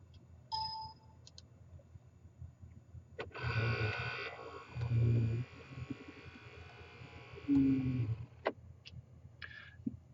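A GHS 400iXL label printer printing a label: a few short beeps, then a mechanical buzzing whir in bursts lasting several seconds, close and fairly quiet.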